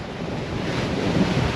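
Ocean waves washing past a Leopard 45 catamaran sailing off Hatteras in the Gulf Stream, a steady loud rush of water and wind noise with no voices.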